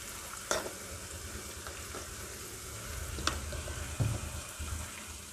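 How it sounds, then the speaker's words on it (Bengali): A spice paste of garlic paste, ginger paste, dried chili powder, turmeric and chopped green and red chilies fries in a pan for fish jhaal, giving a steady close sizzle broken by several sharp stirring scrapes and clacks, with no talk. "ভালো করে এটাকে দিয়ে কষিয়ে নিচ্ছি"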